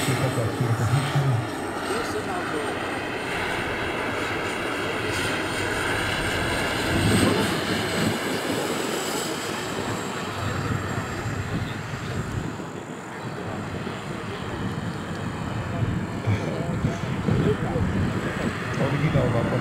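A Mi-24 attack helicopter flies overhead, producing a loud, continuous engine and rotor roar that swells and fades slightly, with faint voices underneath at times.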